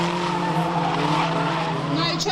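A race car at Fleet Raceway spins out and hits a tyre barrier: a loud, steady engine whine with tyre squeal runs throughout, ending in a brief thud, while a commentator talks over it.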